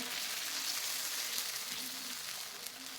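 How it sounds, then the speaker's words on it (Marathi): A rice masala dosa cooks on a hot griddle over medium flame, giving a soft, continuous sizzling hiss that stays even throughout with a few faint crackles and no talk. "मध्यम गॅसवर हा डोसा भाजून घ्यायचा आहे"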